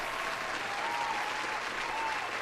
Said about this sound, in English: Here's another round of applause for you.